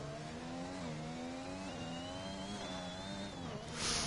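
Race car engine in a racing video game revving and shifting, a steady high whine rising and falling between gear changes, with a brief rush of noise near the end.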